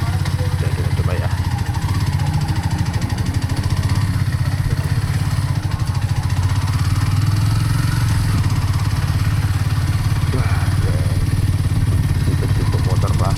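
A Kawasaki classic motorcycle engine runs loud and close, throbbing at idle with occasional revs rising and falling, while a voice talks over it at the IIMS 2025 motor show.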